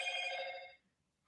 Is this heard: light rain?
no